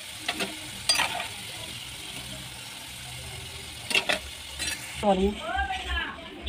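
Vegetables frying and sizzling in a pan with spices, a low steady sizzle with stirring clatter at intervals and a louder burst of sizzle near the end as more goes into the hot pan.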